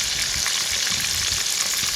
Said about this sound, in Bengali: মাছগুলো ভাজা হয়ে গেছে বেশি কড়া করে ভাজবো না